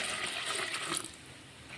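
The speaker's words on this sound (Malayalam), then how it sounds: "അതിലേക്ക് കുറച്ച് വെള്ളം ഒഴിച്ചു" Water poured over washed rice in a vessel to soak, a brief soft splashing gush close by that fades after about a second.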